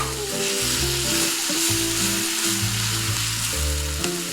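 Four to five tomatoes dropped into a pan of browned onions for paneer butter masala sizzle loudly and continuously, a dense close frying hiss with occasional stirring movement and a low background hum, no talking.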